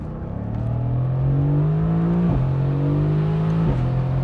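A 2018 Mercedes-AMG GT C V8 with a dual-clutch transmission, in Sport Plus with paddle shifting, accelerates hard. Its loud, close engine note climbs steadily and dips briefly at two upshifts, with no talking.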